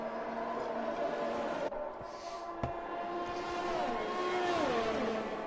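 Ferrari Formula 1 cars race in an F1 video game at the France round, engines whining at high pitch with a shifting tone as a car passes and changes gear, over steady background engine drone.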